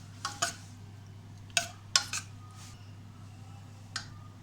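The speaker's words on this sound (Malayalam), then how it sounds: "നമുക്കിത് ഓപ്പൺ ചെയ്ത് നോക്കാം. ഓപ്പൺ ചെയ്ത് ഇത് നല്ലവണ്ണം ഒന്ന് യോജിപ്പിക്കാം." A pressure cooker of beef korma being opened and stirred: a handful of sharp metallic clinks and clanks, spaced irregularly and close, over a steady low hum.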